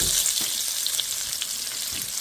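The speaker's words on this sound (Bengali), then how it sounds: "মাছ ভাজার তেলটা আমি এই পাতিলে নিয়ে নিয়েছি। এখন পেঁয়াজটা দিয়ে দেবো।" Sliced onion sizzling and frying in leftover fish-frying oil in a cooking pot, a steady close hiss with faint stirring, no voices.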